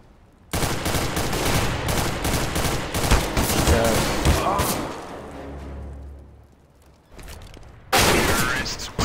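Rapid bursts of gunfire from Counter-Strike: Global Offensive matchmaking play, loud and dense with repeated volleys, a lull with a low rumble, then another burst near the end.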